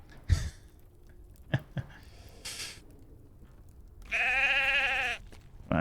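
Sheep in the video game Lord of the Rings Online bleat in a few short, separate calls, one drawn-out wavering bleat standing out clearly over faint background clicks.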